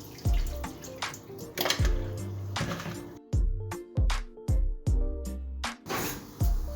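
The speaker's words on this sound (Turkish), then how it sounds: "Haşlamış olduğumuz patatesleri süzüyoruz." Boiled potatoes are drained, and water splashes and pours out in uneven gushes. Louder splashy bursts repeat in rough pulses, close by and with no voices.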